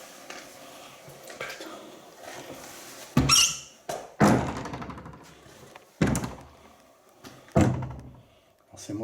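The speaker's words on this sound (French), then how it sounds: "C'est moi qui viens d'ouvrir la porte avec mon pied." A door pushed open with a foot gives several hollow thuds and bangs spaced a second or two apart, loud and close, with faint room noise between them.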